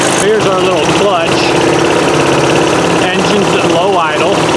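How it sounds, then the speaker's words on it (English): A DR Powerwagon dump cart's small engine runs at low idle with a steady, close, buzzy throb, while someone speaks over it at intervals. "Engine's at low idle."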